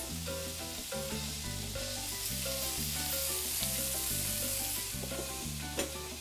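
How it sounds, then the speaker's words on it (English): Onions frying in a pan while cooking pinchos, a steady close sizzle and crackle running throughout beneath loud background music. "They're starting to get brown and caramelized. That onion is cooking."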